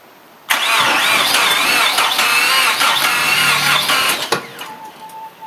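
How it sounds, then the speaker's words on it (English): A car engine turns over on a recharged battery: one loud crank-and-run burst begins abruptly, holds a wavering churning roar for about four seconds, then cuts off, with no talk. "that charged it up enough to crank it over a few times, plus push the starter motor enough to move it"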